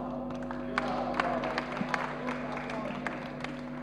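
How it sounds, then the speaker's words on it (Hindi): A mushaira audience claps for guest poet Rifat Waheed, a soft scattered patter of hands with a few sharper claps, moderately close and brief, over a steady background hum. "मेहमान शायरा रिफत वहीद के लिए तालियां"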